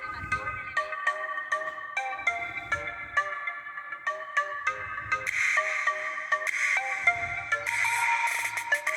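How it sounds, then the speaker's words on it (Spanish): LG K20 phone ringtone: a bright synthesized melody of repeating chime-like notes with a soft low pulse underneath, loud and close, playing continuously without any talk. "Tono del teléfono"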